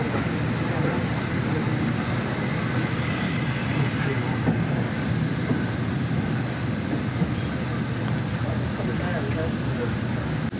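Steady rumble of a steam train pulling into a station, continuous broadband noise with a low drone, as if heard from inside a carriage.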